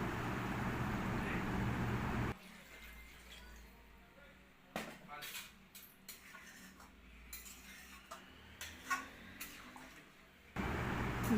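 Water goes into a pan of vegetarian jackfruit curry with a rushing pour at the start and end, while quieter spoon clinks and stirring scrapes fill the middle.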